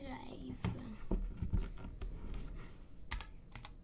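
Computer keyboard typing while a Minecraft sign is being written, irregular bursts of key clicks at close range, heard under faint background speech.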